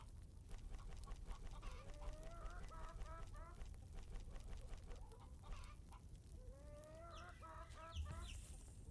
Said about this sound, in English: Can I get these eggs before the chickens come back?